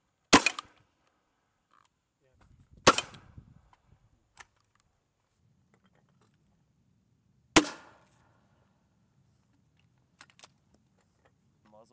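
Marines fire M32A1 and M203 grenade launchers outdoors, giving three sharp, loud reports spaced several seconds apart with some quieter thumps and faint low rumble between them.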